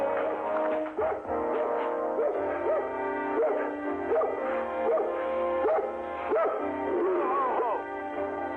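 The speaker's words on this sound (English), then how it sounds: "Ronnie, will you keep that dog quiet?" A watchdog barks, yips and whimpers with a steady, harmonic tone under a loud continuous background, with brief bursts repeating through the stretch and a voice occasionally mixed in.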